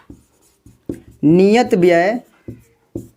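A pen scratches out a maths solution by hand on paper in short, crisp strokes and taps, pausing while a voice speaks Hindi in between.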